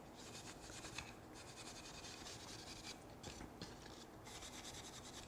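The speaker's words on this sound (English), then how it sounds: "I'm going to take some 4-0 steel wool without any paste wax and buff the surface" Fine 0000 steel wool rubs over a shellac finish on a wooden raised-panel box, faint rhythmic scratchy strokes in quick back-and-forth passes, close and quiet.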